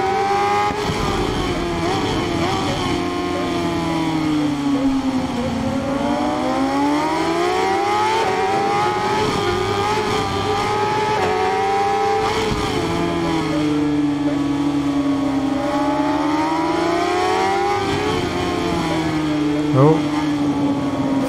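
A 1000cc naked-class motorcycle engine in the racing game RIDE 5 howls steadily near its rev limiter while slipstreaming in a championship race, the pitch sweeping up and down continuously as commentary talk runs underneath.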